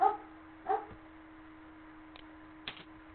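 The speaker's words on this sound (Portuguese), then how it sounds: "Olha os cachorros." Dogs barking somewhere off, a few short separate barks spaced across a few seconds, faint against a quiet steady hum.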